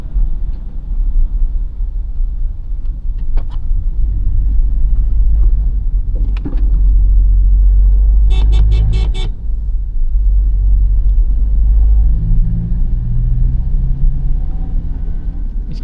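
Interior of a manual Toyota Innova Crysta ZX driving in third gear, a loud low engine and road rumble throughout, with a brief burst of horn tooting midway and a few small clicks, no talking.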